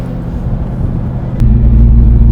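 A Chevrolet Chevelle SS454 with an LS5 big block engine drives along, its deep steady rumble swelling louder midway as it pulls harder, close and continuous.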